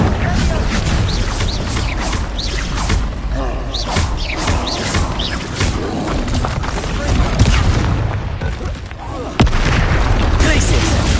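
A rapid barrage of Incendio and other spell blasts in Hogwarts Legacy, with repeated booms, crackles and impacts piling up densely alongside spoken incantations and chaotic combat noise.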